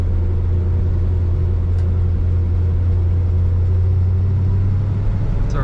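A 1965 Oldsmobile 442 heard from inside, its engine a steady, loud low rumble pulling through a roundabout and accelerating, with a faint click or two and no talk.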